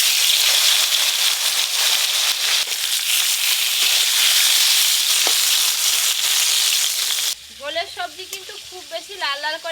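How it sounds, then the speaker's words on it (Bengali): Pointed gourd pieces coated in salt and turmeric frying in hot oil, a loud dense sizzle and crackle with occasional stirring for about seven seconds, then cutting to a quieter stretch with a voice speaking. "এবার ঝোলের জন্য নুন হলুদ মাখানো পটলগুলো ভেজে নেব।"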